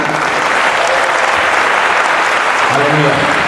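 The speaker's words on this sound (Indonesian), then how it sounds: "Tepuk tangan, jangan tanggung-tanggung" A church congregation claps loudly and vigorously, a thick, sustained roar of applause with voices calling out briefly beneath it.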